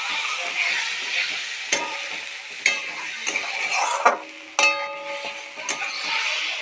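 Spices fry in oil in a kadai for a vegetarian potato curry, giving a steady soft sizzle. A spoon or spatula lands several sharp clacks against the pan, with no speech.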